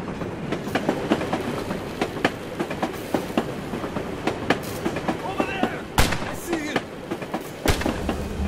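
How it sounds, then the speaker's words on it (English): A tram rolls along its rails in the video game Assassin's Creed Chronicles Russia, with close, loud, irregular metallic clacks and sharp bangs over a rumbling base, and speech woven through. "The tram."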